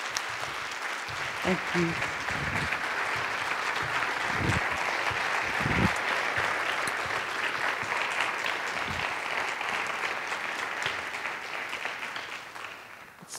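Audience applause fills a university lecture hall to welcome a guest speaker, sustained, dense clapping that holds steady before tapering off, with a voice briefly speaking over it.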